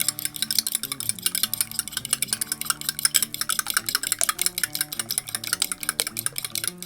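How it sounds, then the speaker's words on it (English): Eggs are whisked in a bowl with quick, steady clicking strokes that repeat rhythmically throughout, moderately close, over background music. "we're gonna crack these into this bowl. And then I'm gonna whisk it all together."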